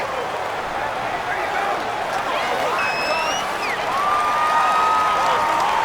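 Stadium crowd noise in Madden NFL 19 during a Washington Redskins vs Dallas Cowboys game at a home field, a steady loud roar with cheering that swells slightly near the end, mixed with faint whistles and an announcer's voice.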